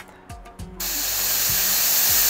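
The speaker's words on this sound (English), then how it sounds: "I'm gonna be a little tighter with my spray" An airbrush sprays hero blue paint onto a Stormraven model, a sudden loud steady hiss switching on after a few short clicks and bursts and holding continuously to the end.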